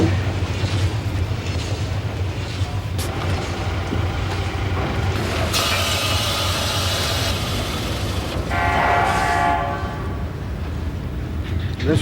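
An Australian National roadrailer train rolls past with a continuous heavy rumble of wheels and cars, and a loud horn sounds partway through over the steady roar.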